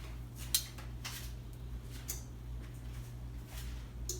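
Knife slicing plantains lengthwise on a board while preparing plantain au gratin, a few soft, faint cutting strokes over a steady low background hum, no talking.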